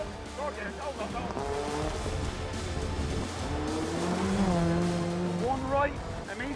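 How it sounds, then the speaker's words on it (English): A rally car engine revs hard on a race stage, with rising and falling harmonic whine mixed into continuous road and engine noise, while a co-driver talks loudly over it throughout. "Rev it up, rev it up. Go again."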